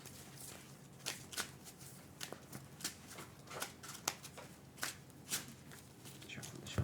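Cards from a Magic: The Gathering deck being shuffled at a Legacy tournament table, a run of crisp riffling bursts repeating every half second or so, close and fairly quiet with faint background chatter.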